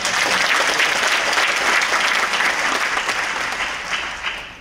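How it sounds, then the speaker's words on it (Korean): Sustained applause from the audience at a city mayor's inauguration ceremony in Yongin, steady and dense throughout before tapering off slightly at the end. "뒤에 인사하시고 박수 한번 쳐주세요"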